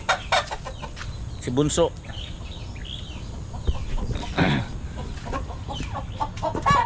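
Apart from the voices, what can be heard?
chickens clucking, egg-laying hens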